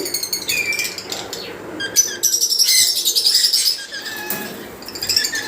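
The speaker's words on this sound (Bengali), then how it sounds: "আর কিছু লাভবাট পাখি আছে এখানে ভাই" Lovebirds at a bird farm chirp and tweet in a busy flock, with bursts of flapping wings and overlapping calls close by, loud and continuous, with no clear voices.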